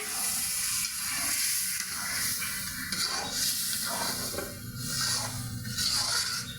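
Spices sizzle and fry steadily in a hot pan for Bengali bayo kochu dal with rohu fish head, a continuous close hiss with faint scraping stirs and no talk.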